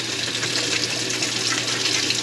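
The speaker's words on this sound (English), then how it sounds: "I'm gonna run some cold water so I don't melt my pipes" Cold water gushes steadily from a sink tap, a loud, close, continuous rushing stream with no talking.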